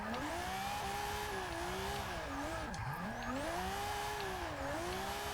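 A 1969 Nissan Fairlady Z with a swapped RB engine, built for drifting in Forza 6, revs loud and high with wavering pitch as the tires squeal continuously through a slide.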